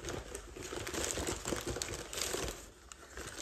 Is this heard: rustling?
yes